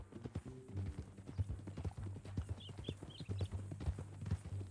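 Horse hooves clip-clop steadily on ground in Red Dead Redemption 2, a brisk rhythmic walk of hollow knocks over a low background hum, with faint chirps in the distance.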